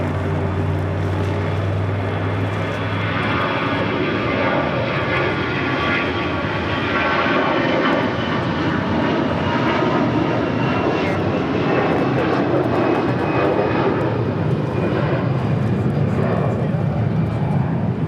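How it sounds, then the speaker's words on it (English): An American Airlines Airbus A320 jet airliner at LAX fills the scene with a steady, loud engine roar and broad rushing noise that holds for the whole stretch without fading. "That was American Airlines Flight 1270 heading to Phoenix, an A320."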